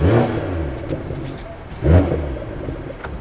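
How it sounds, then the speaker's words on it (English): BMW M340i xDrive accelerating with a light turbo whoosh, engine rumble swelling in two surges, nearby and moderately loud. "There's baby turbo right there"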